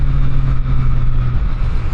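Triumph Street Triple 765 RS Moto2 Edition motorcycle at full throttle in third gear, a loud steady engine drone with wind rush, heard close from the rider's position.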